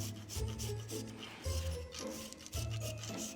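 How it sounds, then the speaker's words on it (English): Lily's stevia-sweetened milk chocolate is shaved over croissant dough in a kitchen, heard as soft, close rasping strokes repeated in a quick rhythm, about three scraping passes with short pauses between. "I'm going to be shaving on some Lily's milk chocolate sweetened with stevia."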